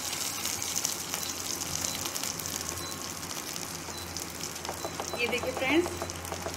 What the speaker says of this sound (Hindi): इसे लगभग एक से डेढ़ मिनट, सिर्फ एक से डेढ़ मिनट तक हमें इसे फ्राई करना है।